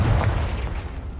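A Confringo explosive spell detonates in a Harry Potter video game, a single deep, booming blast that lingers in a low rumbling tail.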